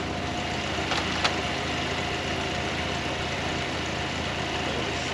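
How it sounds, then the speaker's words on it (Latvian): A warmed-up Volkswagen Golf engine idles steadily at close range, a constant rumble with a couple of faint clicks early on. "Motors ir uzsils."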